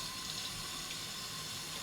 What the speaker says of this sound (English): add a bit more water